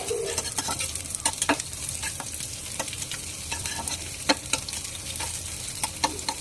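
Dried chili, chopped onion and garlic fry in hot oil while being stirred, giving a constant crackling sizzle broken by frequent irregular scrapes and clacks of the spatula against the pan, close up, with no voices.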